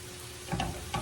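Potatoes frying undisturbed in a pan over medium heat to crisp on the bottom, giving a steady close sizzle with a couple of brief crackling pops.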